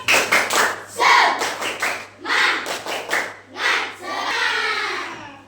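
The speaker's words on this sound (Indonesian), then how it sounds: "Tepuk semangat." A classroom group performs a rhythmic spirit clap (tepuk semangat) during a primary-school lesson, with bursts of patterned clapping mixed with chanting voices, fairly close and lively, ending in a longer sustained burst.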